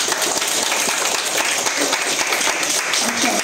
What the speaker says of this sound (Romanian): Haideți să-i aplaudăm pe părinții voștri